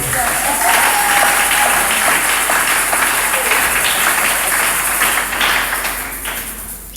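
A church congregation claps and applauds the Lord at a closing gathering, a dense, sustained wall of hand claps that fills the room and slowly thins toward the end.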